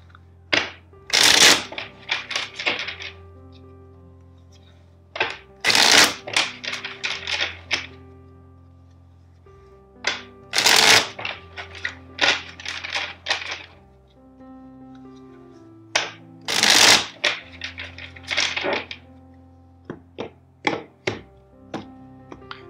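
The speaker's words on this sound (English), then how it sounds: "let's shuffle the deck four times" Four separate bursts of tarot cards being shuffled, each a quick riffle followed by soft taps and thumps, with a steady low musical tone underneath.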